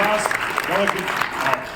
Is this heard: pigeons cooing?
no